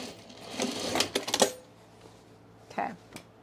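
A sewing machine runs in a few quick mechanical bursts while backstitching to reinforce a seam on Partner Overalls, then a softer final burst, all close and fairly quiet.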